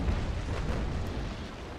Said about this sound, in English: Five shots to the hull, and I'm waiting for my 13 cannons to reload.